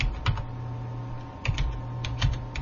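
Keys clack on a computer keyboard in short uneven clusters of taps over a low steady hum, close and fairly quiet, with no voices.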